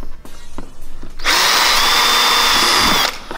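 A power drill bores into a damaged plastic AMG car bumper, a close, loud steady whine lasting about two seconds after a few quieter handling clicks, then stopping abruptly.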